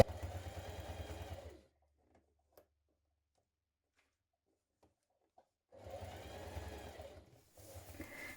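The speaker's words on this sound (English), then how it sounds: "Now stitch it from the right side close to the edge now that you've turned back your neckband, stretching slightly as you do so." A sewing machine top-stitches a stretch leotard neckband close to the edge, whirring steadily for about a second and a half, then silence with a few faint clicks, and then two more short runs of stitching.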